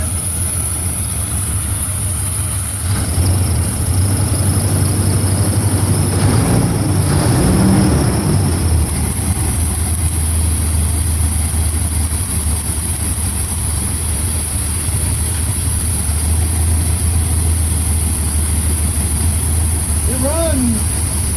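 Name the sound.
1989 Chevy Suburban engine idling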